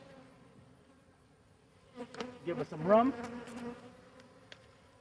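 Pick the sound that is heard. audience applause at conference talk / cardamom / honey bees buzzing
honey bees buzzing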